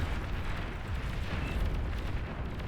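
The Tsar unit fires in the real-time strategy game Beyond All Reason, producing dense, continuous booming bombardment with rumbling low-end blasts, loud and sustained without pause.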